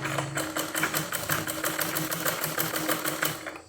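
Sewing machine stitching fabric for a petticoat, a fast even run of rapid mechanical clatter with a steady motor hum, close up, running continuously and easing off at the end.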